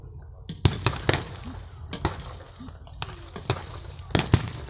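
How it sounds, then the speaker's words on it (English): A PIAT anti-tank weapon fires at a battle reenactment, one of several sharp outdoor bangs and pops spread across the scene, with a commentator talking over them. "He's fired the Piat."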